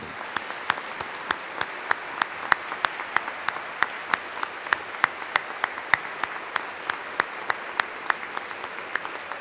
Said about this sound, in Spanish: que le brindemos a esos dos un fuerte aplauso